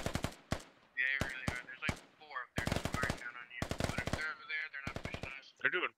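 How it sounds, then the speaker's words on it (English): Automatic weapon fire crackles through a Squad battle in rapid bursts, sharp volleys broken by brief pauses, with radio-style voices and a few single shots mixed in across the skirmish. "They're doing plenty of shooting."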